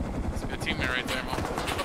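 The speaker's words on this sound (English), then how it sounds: "Heli's here." A helicopter arriving in a video game, its rotor thrum rising briefly behind a player talking over it in a short burst.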